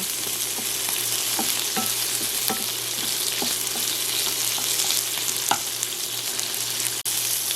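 Wando seaweed (miyeok) stir-fries in a pot for seaweed soup with a loud, continuous sizzle, broken by scattered clicks and scrapes of a utensil stirring through it.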